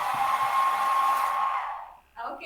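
A hair dryer blows steadily at close range with a whining tone, then switches off and winds down, followed by a brief quiet.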